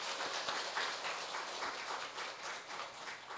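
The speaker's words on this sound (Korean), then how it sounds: "교회 학교 교사들을 위해서 격려하고 축복하는 박수를" Congregation at a Korean church Sunday service applauding to encourage the church school teachers; steady clapping from many hands, fairly faint and distant, with no voices over it.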